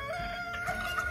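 A meat chicken set on a table clucks and calls in short, uneven bursts, close and fairly loud, with no talking.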